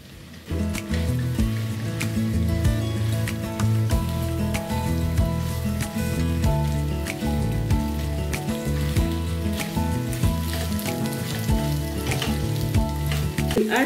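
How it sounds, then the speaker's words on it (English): Onions frying in a hot pan alongside liver and kidney, a loud steady sizzle that runs the whole way through with small clinks and stirring noises on top, close by and with no talk. "So I will add in the onions."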